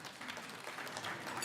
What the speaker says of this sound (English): let's give her another round of applause, if you will.